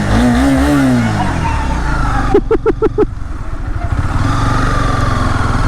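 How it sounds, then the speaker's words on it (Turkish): A TBR 250 motorcycle with a 250 cc engine rides along, its close, steady engine drone wavering in pitch, with a brief burst of rhythmic ticking pulses partway through. "TBR 250 ile yolumuza devam ediyoruz."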